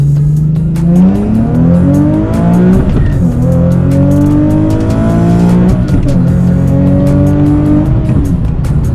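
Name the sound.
car accelerating hard during pulls, Nissan Z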